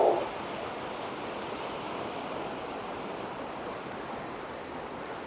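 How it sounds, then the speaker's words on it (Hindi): The Alaknanda river pours toward its confluence with the Nandakini in the Himalayan foothills, a loud, unbroken broadband rush of turbulent water heard up close, with a brief bump at the start and no talking. "ये जो सामने से नदी आ रही है, ये है अलकनंदा"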